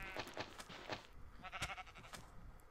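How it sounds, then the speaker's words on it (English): Blue sheep in a video game bleating: several short, wavering bleats in quick succession, close and moderately loud, with no talk over them. "Blue sheep."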